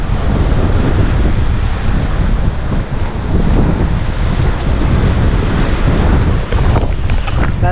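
Strong wind and breaking waves on a sailboat under a small scrap of genoa, making about seven knots while crossing the Pacific; a loud, continuous roar of gusts and surging water with no talk.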